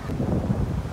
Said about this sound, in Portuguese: bastante vento aqui